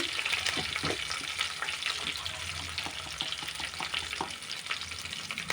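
Frying brinjal curry (stuffed eggplant) being stirred in a pan after turmeric goes in, a continuous soft sizzle broken by repeated scraping and clinking stirring strokes, fairly quiet and close.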